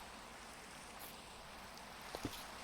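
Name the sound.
rain falling in a video game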